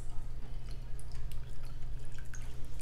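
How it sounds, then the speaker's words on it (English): Worcestershire sauce drips and trickles in short, quiet liquid spatters into a pot of beef stroganoff for about three seconds, set against a low steady hum. "And 2 tablespoons of Worcestershire sauce."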